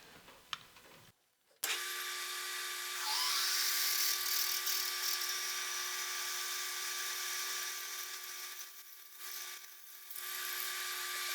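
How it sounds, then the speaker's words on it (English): Electric drill boring out the end of a motor grader crankshaft to 3/8 inch, a steady high-pitched whine starting after a brief pause and running continuously with slight load changes, close and loud. "Now I got to drill this out to 3/8."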